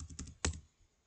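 Several quick key clicks on a computer keyboard while drafting in AutoCAD, a short cluster of taps followed by one louder keystroke, then quiet.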